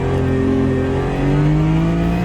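A race car engine revs loud and close at Spa in the Automobilista 2 racing game, a steady high drone rising gradually in pitch through the whole stretch with no talking.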